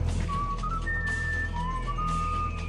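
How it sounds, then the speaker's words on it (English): In the Serious Sam video game, the hero whistles a short theme-song melody, a clear thin tune rising and falling over a constant low game hum and ambience. "Sam will whistle a certain theme song"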